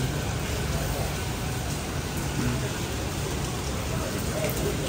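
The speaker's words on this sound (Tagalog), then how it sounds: "So guys, heavy rain." Heavy rain falls outside a shopping mall in Singapore as a dense, continuous roar of broadband hiss, steady and enveloping.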